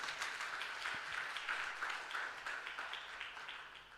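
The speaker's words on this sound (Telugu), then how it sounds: "చప్పట్లు కొట్టి దేవుని మహిమపరచు" A church congregation clapping in praise: steady, rhythmic, fairly distant applause from many hands, continuing without a break.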